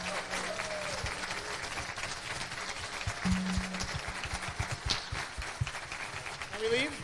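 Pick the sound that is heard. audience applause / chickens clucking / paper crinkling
audience applause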